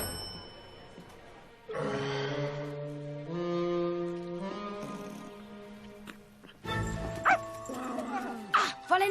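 A dog in an animated film scene yips and barks several times near the end, loud and close, following a stretch of sustained tonal music.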